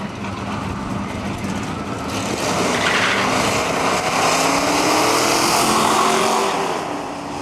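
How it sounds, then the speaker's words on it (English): A Ford Mustang Mach 1 and a Dodge Polara launch at a nostalgia drag race in Cayuga, Ontario, their engines building into a loud, sustained roar that swells through the middle and fades slightly at the end. "So the Mustang leaves first."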